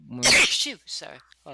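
A single loud, explosive human sneeze at close range, followed right away by brief talk from the same person.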